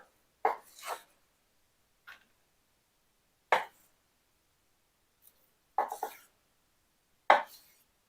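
A knife slices through a cooked tomahawk steak in about five separate short scraping cuts, close and isolated, separated by silence.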